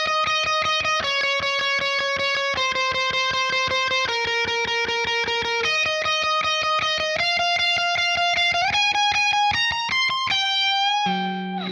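D: Electric guitar playing part B of a song's solo, a run of sustained picked notes stepping through a melody with bends near the end, loud and continuous with no talking.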